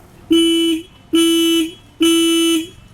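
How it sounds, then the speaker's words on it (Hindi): A Jawa 42 Bobber motorcycle horn honks three times in even, half-second blasts, loud and close, with a buzzy tone and short gaps between. "फिर हॉर्न सुन लो"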